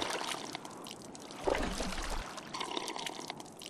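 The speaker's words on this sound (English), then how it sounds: "This will also fill up your canteen for future use." Water pours and trickles as a canteen fills in the video game Miasmata, a continuous splashing flow over ambient outdoor noise with no talking.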